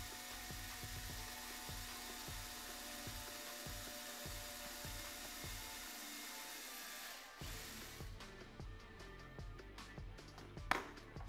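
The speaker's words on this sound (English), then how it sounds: "We're drilling the pilot holes." Steady whine of a small drill making pilot holes for servo screws in a model RC aircraft's ailerons and flaps, running in bursts, starting and stopping repeatedly, close by, with some clatter of handling toward the end.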